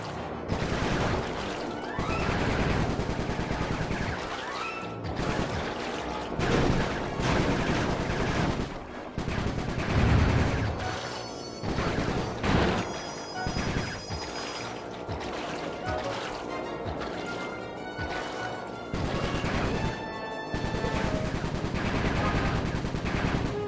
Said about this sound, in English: Nice shooting, Bentley.